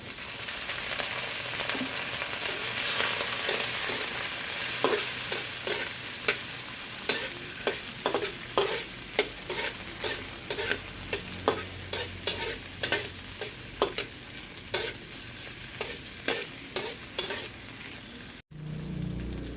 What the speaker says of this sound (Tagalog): Ilalagay ko na rin po itong kamatis.